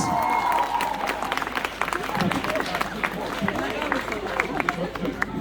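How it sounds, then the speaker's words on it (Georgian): A crowd applauds at a sports award ceremony, giving a burst of scattered clapping and hubbub. A voice is heard at the start and the clapping continues under it. "აპლოდისმენტები დავაჯილდოთ ის"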